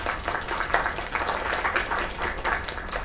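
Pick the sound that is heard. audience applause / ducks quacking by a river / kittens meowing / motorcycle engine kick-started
audience applause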